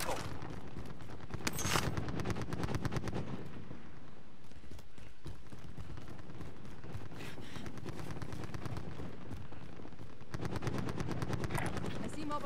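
Sustained automatic gunfire attacking an armored vehicle in Call of Duty Warzone, rapid bursts of loud shots with heavier impacts and rumble throughout, dense and continuous, game voice audio faintly mixed in.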